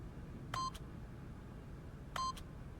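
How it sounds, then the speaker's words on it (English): Two short keypad button presses on an office door lock in The Stanley Parable, each a clean two-tone electronic beep about a second and a half apart, clear over a quiet low hum. "by simply pushing random buttons on the keypad, Stanley happened to input the correct code by sheer luck"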